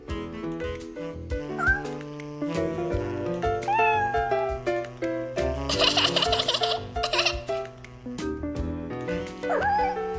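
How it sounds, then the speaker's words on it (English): A kitten meows in short, repeated high cries while playing with a shoelace, heard over cartoon background music, fairly close and clear. "I've never met a kitten that could resist a shoelace."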